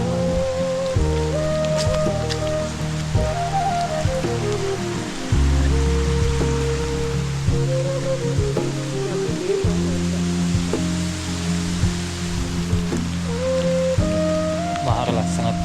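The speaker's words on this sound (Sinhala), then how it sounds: "හොඳටම වහිනවා. අපිට මේ කැලේ ඇතුළේ ඉන්න හින්දා ලොකුට වැස්ස තියෙනවා." Heavy rain falls in the Sinharaja rainforest as a dense, continuous hiss, while loud steady tonal music plays throughout and partly masks the downpour.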